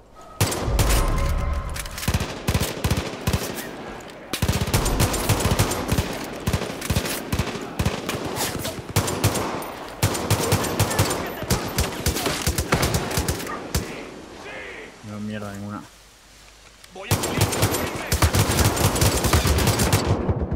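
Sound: machine gun fire in the video game Far Cry 5

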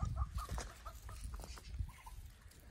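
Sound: chicks peeping

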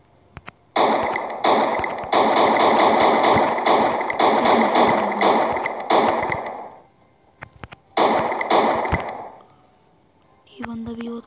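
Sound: gunfire in a shooter video game

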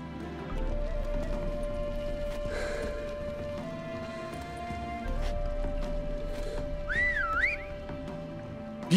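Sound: man whistling in video game The Witcher 3

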